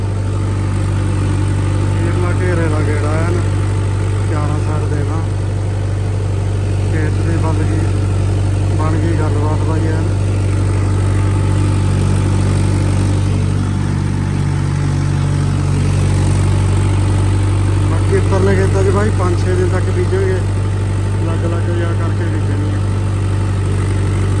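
Tractor engine running steadily in a farm field during maize sowing, a continuous low drone throughout with voices talking over it.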